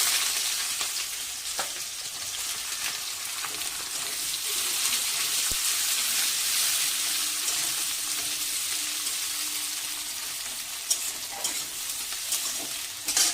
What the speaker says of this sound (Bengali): এবারে ওই তেলের মধ্যেই আমি ফোড়নে দিচ্ছি তেজপাতা আর গোটা গরম মশলা। দিয়ে দিচ্ছি কুচনো পেঁয়াজ,